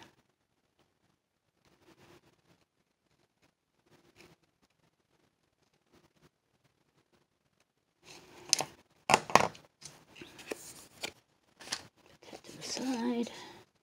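Scissors snip through paper while trimming journal page toppers, a cluster of close, crisp cuts and rustles arriving late after near-silence with faint movement.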